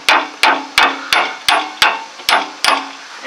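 A hammer taps an upper ball joint into place on a vehicle's suspension: about eight sharp metallic strikes in an even rhythm, close and loud, with short ringing decays between blows.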